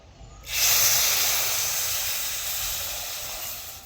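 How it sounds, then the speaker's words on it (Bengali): Milk poured into hot ghee in a pan while making mohanthal, a gram-flour sweet, bursts into a loud sizzling hiss that swells sharply and then slowly settles into a steady simmering fizz. "এবার আমি এর মধ্যে দিয়ে দিচ্ছি এক বাটি দুধ"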